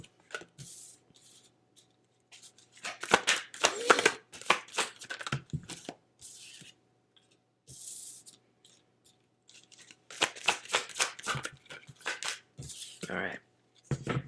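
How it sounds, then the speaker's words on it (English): Tarot cards being shuffled and drawn by hand, a run of soft, rapid riffling and rubbing bursts close up, with pauses between them and a person talking quietly in places. "let me pull some cards"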